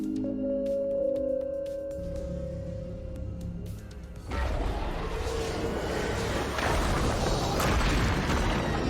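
A quiet electronic tone gives way to a sudden heavy boom, followed by a long roaring rumble that fills the rest of the clip, an explosion in Fortnite.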